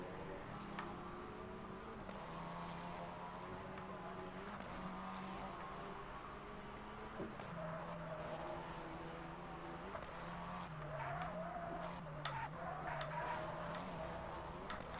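A Seat Leon TCR race car in a racing video game, its engine droning and shifting pitch through gear changes, fairly quiet and continuous, with occasional tire noise.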